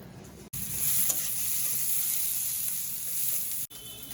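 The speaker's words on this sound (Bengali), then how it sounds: "এখানে যে লাউ শাক ভাত দেওয়া আছে পেঁয়াজ আর রসুন দিয়ে ভাজবো" Bottle gourd greens frying with onion and garlic give a steady, close hiss of sizzling oil with faint stirring, cut off by brief dropouts at the start and end.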